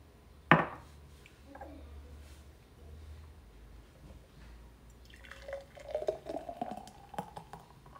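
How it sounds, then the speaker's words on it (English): Homemade juice being poured into small jars, a faint close liquid trickle with a sharp tap near the start and a burst of splashing, gurgling pours later on. "then I just fill up my jars"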